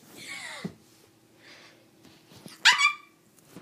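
A person imitates a dog, with a whining yelp and then a sharp bark-like yelp, amid breathy noises.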